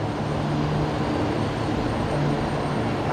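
A Beechcraft Super King Air turboprop climbing out of Brisbane Airport gives a steady, continuous engine drone with a faint tonal hum, heard alone without talk.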